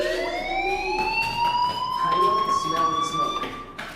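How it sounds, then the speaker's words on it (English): A fire alarm inside the video game Life is Strange, a continuous high electronic tone with rising harmonics, sounding steadily throughout with scattered background noises. "Hey, do you hear that fire alarm?"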